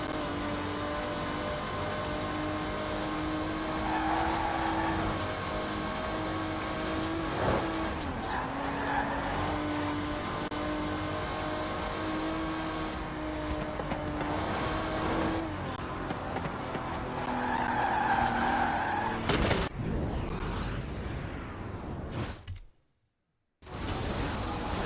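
An Aston Martin DB5 Vantage, a 1960s grand tourer with side-draft carburettors, races in Forza Horizon 4; a steady engine drone rises and falls through gear changes with tire squeal, then cuts briefly to silence near the end.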